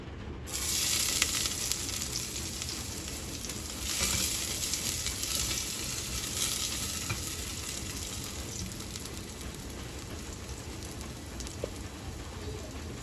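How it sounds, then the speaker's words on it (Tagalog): Garlic, onion and ginger frying in hot oil, a steady low sizzle and crackle throughout at moderate distance, with bird cooing in the background and no talk. "Ako po ay magigisa na ng bawang, sibuyas at luya."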